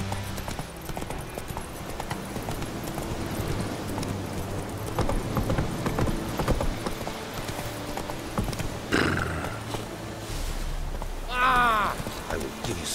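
Roach the horse gallops in The Witcher 3, steady clip-clop hoofbeats running through the whole stretch, joined late by a short neigh and a whinny, with some ambient game sound underneath.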